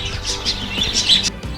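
High, rapid chirps and cheeps from baby birds in an indoor bird room, several close voices calling loudly and overlapping in quick bursts.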